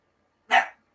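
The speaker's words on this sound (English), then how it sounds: "Barking at the dogs outside." A dog gives a single short, sharp bark nearby indoors, surrounded by silence.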